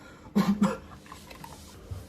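Three quick, staged coughs in a row, short and close, performed as misdirection for a magic trick, then quiet.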